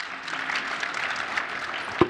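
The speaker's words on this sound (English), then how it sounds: "Let's give these people a round of applause." An audience at a beverage industry conference general session applauds, a short steady burst of clapping from many hands that lasts about two seconds.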